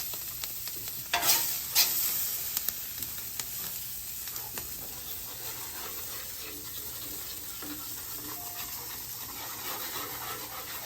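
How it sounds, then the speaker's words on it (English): Soft, steady sizzling of jalapenos and onions frying in leftover sausage grease on a Weber griddle insert over a gas grill, with a few scraping stirs early on and a constant quiet crackle. "even on low, that bad boy has some sizzle"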